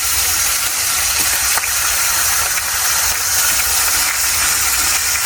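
Pieces of rohu fish going into hot oil, setting off a loud, close, unbroken sizzling hiss that holds steady throughout.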